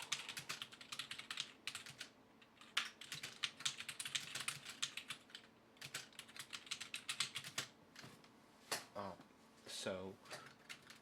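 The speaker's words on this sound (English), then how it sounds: "We can type on it as normal." Fingers type on a backlit computer keyboard wired to a power inverter, a close, quiet run of rapid key clicks in irregular bursts, joined near the end by faint voice-like sounds.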